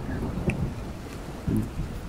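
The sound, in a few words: strong gusty wind and rain in Jashore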